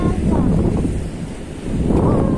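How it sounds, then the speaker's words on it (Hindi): Strong cold wind at a seaside in Spain buffets the microphone with a steady, loud roar, with surf rolling underneath; the gusts ease briefly midway, then swell again. "बहुत ठंडी हवा चल रही है"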